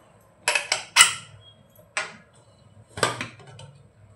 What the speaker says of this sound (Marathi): आपण आता झाकण उघडूया